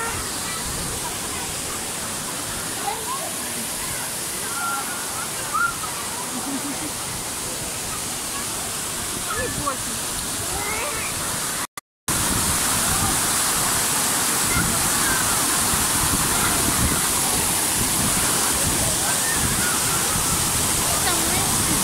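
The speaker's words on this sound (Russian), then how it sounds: "А, водопад какой." Waterfall at the Tropical Islands indoor resort in Germany, a steady broadband rush of falling water that holds level throughout, with a brief dropout near the middle and faint voices in the background.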